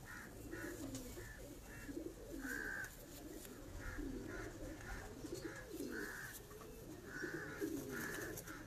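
Pigeons on a rooftop loft coo softly and repeatedly in short, rhythmic phrases, fairly faint against quiet background noise.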